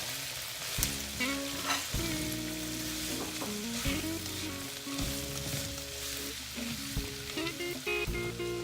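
Diced red peppers and garlic sautéing for paella, a steady bright sizzle in a pan with stirring scrapes, under background music with no talking.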